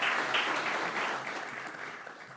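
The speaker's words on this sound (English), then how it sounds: "give a big round of applause to these people" Steady audience applause at a wave energy seminar opening session, full and even, tapering gradually with no speech over it.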